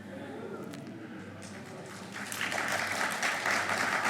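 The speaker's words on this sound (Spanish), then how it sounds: "¿Por qué aplauden?" A congregation at a church service breaks into applause, a faint spread of clapping that swells and grows denser after a low murmur of voices and background hum.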